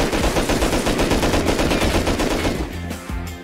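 Automatic gunfire in the survival video game Rust, a dense, loud rapid-fire burst that runs for about three seconds before tapering into a few scattered shots, with no talking.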